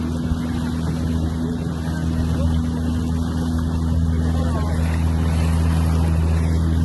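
A motorboat on a ride out toward a river mouth in Pondicherry drones with a loud, steady low engine hum, mixed with wind and water noise and constant vibration throughout.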